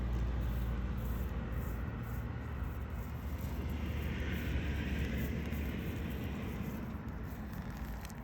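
A soft, continuous whirring buzz of a flying rhinoceros beetle's wings drones steadily on, low and rumbling, similar to a distant helicopter.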